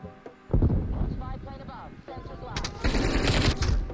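Gunfire in Black Ops Cold War, a recoil-free rifle: rapid automatic bursts of close, sharp shots in a steady rhythm, with a louder, denser volley near the end and a voice talking over part of it.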